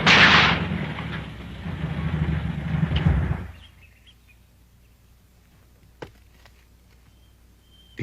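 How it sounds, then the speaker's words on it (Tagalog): Gunfire bursts out in a loud, dense volley for a few seconds, then cuts off. A single sharp distant crack follows in the quiet. "Titignan ko kung anong putukan na yun."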